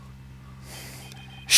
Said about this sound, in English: That gasp even startled me.